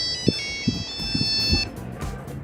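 A Nokia 3310 ringing after a drop test, its electronic ringtone tones sounding steadily for a little over a second and a half amid low handling thumps and background noise.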